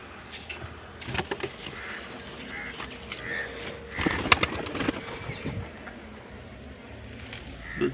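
Pigeons in a loft shuffle and coo faintly, with scattered wing flaps and scuffling bursts over a low background murmur, moderately near.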